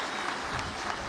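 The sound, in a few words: audience applause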